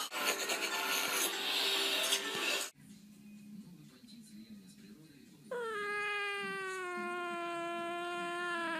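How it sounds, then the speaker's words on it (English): A cat lets out a long, drawn-out meow that holds steady for several seconds near the end, after a burst of loud, noisy sound and a quieter stretch with muffled voices. "get this cat out of here!"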